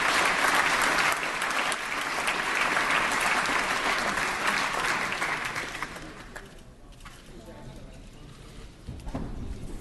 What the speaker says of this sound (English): let's give Governor Brown a round of applause as he exits the chamber